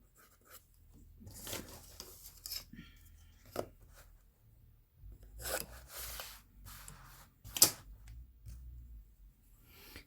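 Pencil lightly drawing lines on paper, a series of soft, close scratchy strokes in short bursts with quiet gaps between.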